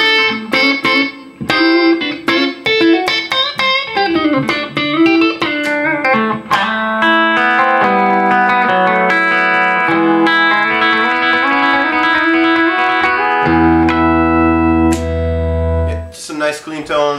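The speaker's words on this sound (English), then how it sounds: "just a nice clean tone with some compression on it" Clean-toned electric guitar played through the Waves GTR with compression and reverb, picking melodic lines and chords that ring out into sustained low notes near the end, steady and upfront.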